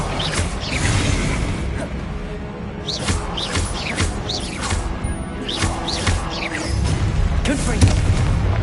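Repeated booming blasts and crashing impacts from a fiery blasting spell in a wizarding school video game, loud and close, landing one after another in quick succession under a speaking voice casting spells.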